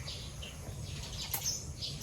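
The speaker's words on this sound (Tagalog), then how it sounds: "Yung huni ng ibon yung marinig natin." Birds chirp and tweet in quiet Philippine countryside, several faint high calls scattered across a hushed, low-rumbling background.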